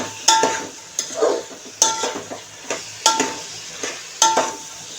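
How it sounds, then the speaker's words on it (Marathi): Vegetables with cauliflower florets stir-fried over a high flame in a pan for white pulao, giving four sharp metallic clanks of a spoon against the pan at regular intervals, with a soft sizzle between them. "आता हे दोन्ही आपल्याला 1 मिनिट परतायचं आहे हाय फ्लेमवर"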